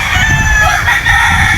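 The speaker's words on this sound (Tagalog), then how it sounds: "napakagandang mga manok dito" Fighting roosters on a large farm in Badian, Cebu, crowing and clucking loudly and close, overlapping calls filling the moment without any talk.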